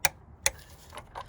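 Two crisp clicks from a torque wrench set to 25Nm, close and distinct, while tightening on a Mk6 Ford Fiesta 1.6 TDCi during a service, followed by softer handling sounds, no voices.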